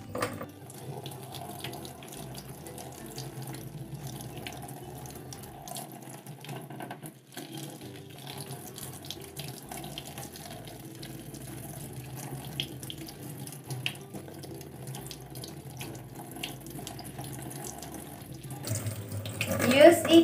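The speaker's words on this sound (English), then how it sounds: "After that, wash and rinsing." Hands washed and rinsed under a running tap in a skills lab, a soft steady stream of water running throughout that swells and splashes louder near the end.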